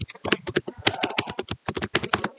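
Quick, close clatter of typing on a computer keyboard, a rapid irregular run of crisp key clicks with brief pauses while entering data into a spreadsheet.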